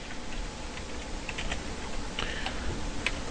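Typing on a computer keyboard, a steady stream of light key clicks with a few sharper taps, close and moderately quiet against a faint hiss.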